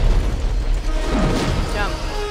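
Explosions in the video game Dead Space 3 produce loud booming bursts with a rumbling low end that dominates the short stretch, followed by fading debris and rumble.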